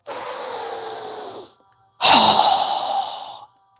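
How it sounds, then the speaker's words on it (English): Two strong, fast exhales through the mouth during a yoga breathing exercise come close and breathy, each lasting over a second, separated by a short pause. "exhale through our mouth with a strong, fast breath as we quickly lower our arms and hands down"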